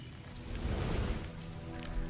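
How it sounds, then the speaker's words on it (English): Steady rain falls in the video game Uncharted: The Lost Legacy, a dense broadband hiss that swells in the middle and stays fairly loud and close throughout, with no voices. "That's just rain."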